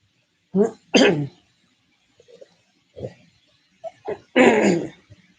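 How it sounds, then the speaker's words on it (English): Several short, harsh coughs and throat-clearing bursts, close by, separated by quiet pauses, with a final longer cough at the end. "I'm kind of coughing right now, and everything's just stuck right here."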